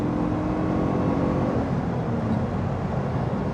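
A steady, smooth engine drone with constant road and wind rumble, from inside a twin-turbo 1996 Dodge Stealth R/T cruising at 100 miles an hour.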